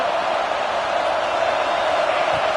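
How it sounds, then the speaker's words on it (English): A football stadium crowd roars in a dense, unbroken wash of noise, loud and steady throughout with no distinct voices standing out. "It's early, but this crowd is fired up. Listen to this noise here."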